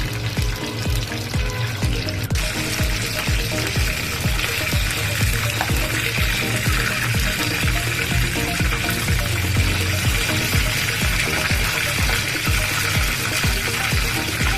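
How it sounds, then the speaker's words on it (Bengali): Battered loitta (Bombay duck) fish deep-frying in hot oil, a steady dense crackle and bubbling that runs without break, loud and close, with no talking. "গোল্ডেন ব্রাউন করে ভেজে নেব"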